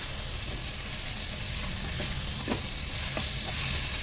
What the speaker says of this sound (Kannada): ಇವಾಗ ನಾವು ಕಟ್ ಮಾಡಿರೋಂಥ ಟೊಮೆಟೊನ ಇದಕ್ಕೆ ಹಾಕಿ ಫ್ರೈ ಮಾಡ್ಕೊಳ್ಳೋಣ